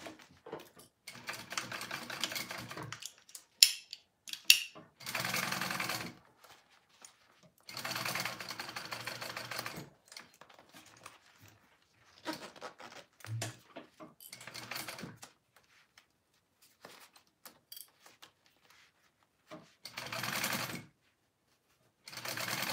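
A sewing machine stitching a crossbody bag runs in several short bursts of rapid mechanical whirring, separated by quiet pauses and small handling clicks, close and fairly soft.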